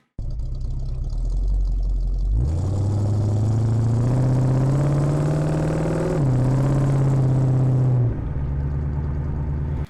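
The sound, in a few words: car exhaust recorded with microphones, engine revving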